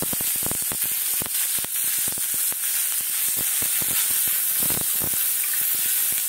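Cumin seeds and curry leaves frying in a hot pan, giving a loud continuous sizzle dense with rapid crackling pops, steady and close throughout.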